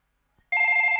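A mobile phone rings with a steady, bright electronic tone that starts abruptly after a moment of silence and continues loud and close, alone with no talk.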